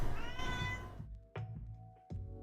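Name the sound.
cat meowing after knocking microphone off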